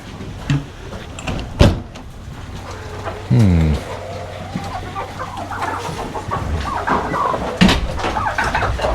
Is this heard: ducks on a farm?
yes